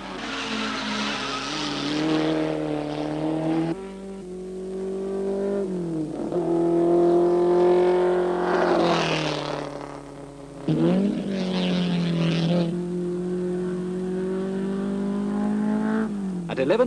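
Racing engines of 1960s cars lapping Sandown circuit during the 1965 Sandown 6 Hour, loud and close, with revs rising and falling through gear changes and passes over about seventeen seconds.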